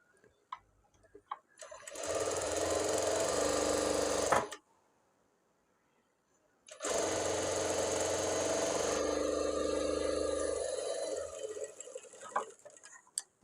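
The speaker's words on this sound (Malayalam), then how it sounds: "ഇനി ഇതേപോലെ മറ്റേ സ്ലീവും കൂടെ അടിച്ചെടുക്കാം" An electric sewing machine stitches a sleeve lining in two long steady runs of rapid, even needle chatter, close and loud, with a short pause between and light handling clicks around them.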